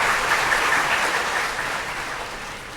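Sustained audience applause at a spiritual discourse, a dense wash of many hands clapping at once that holds steady, then gradually thins and fades toward the end.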